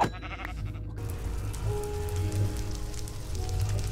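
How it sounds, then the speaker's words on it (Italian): Sheep bleating in the Minecraft video game, a short bleat with a faint repeat under a steady rain-like ambient hiss, heard alone without talk. "Questa suonava come una pecora bianca."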